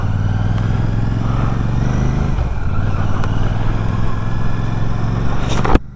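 A Royal Enfield Classic 650 parallel-twin motorcycle engine runs steadily at a low, even idle-like throb, close and continuous for several seconds before cutting off abruptly near the end.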